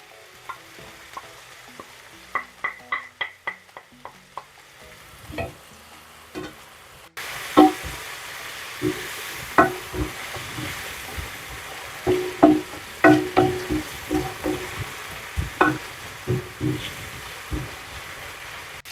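Onions frying with salt and turmeric for a brinjal curry sizzle steadily in a pan, a close, loud hiss broken by repeated spatula scrapes and clicks as they are stirred, with no talk.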